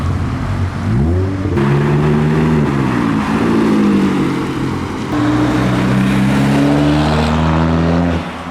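A loud modified car at a car meet roars past up close, its engine note climbing and swelling as it accelerates, then holding a deep, throaty drone before fading slightly at the end.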